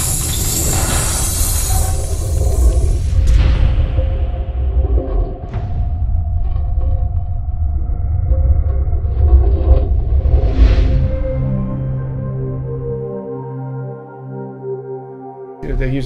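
A heavily reverberant ice-cracking effect layered into a projection-mapping soundtrack with other elements: a dense, booming rumble with swishing sweeps and scattered cracks, loud and sustained, slowly thinning to a lingering resonant tone by the end.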